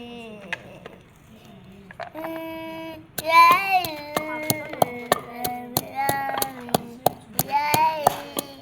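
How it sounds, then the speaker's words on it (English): Onion is pounded in a village kitchen with regular, sharp thuds that start about a third of the way in and repeat steadily, while voices carry on in the background. "And then I'll pound some of the onion, not all."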